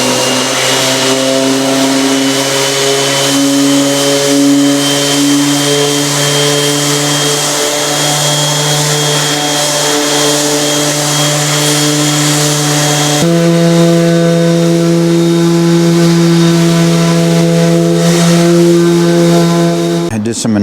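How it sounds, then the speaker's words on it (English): A power sander droning steadily on a wooden bookcase built from leftover wood, running 80 grit, with a constant loud whine that shifts pitch partway through and cuts off at the very end. "Did some initial sanding with some 80 grit"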